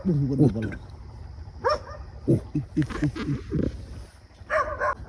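Several dogs barking in short bursts and yips, some close and some farther off, scattered across the moment with a few voices calling out between the barks.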